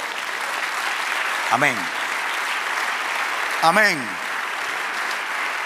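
Congregation applauding during a church sermon, a steady wash of clapping throughout, with two short spoken exclamations rising above it.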